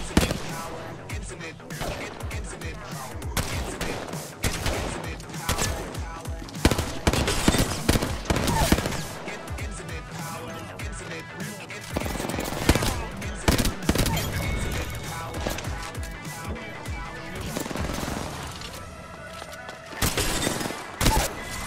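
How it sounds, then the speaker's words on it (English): Hemlok rifle hip-fire in Apex Legends rings out as repeated loud, sharp bursts of close gunshots in quick clusters across a chaotic firefight, with other weapons and effects mixed in. "The hemlock hip fire"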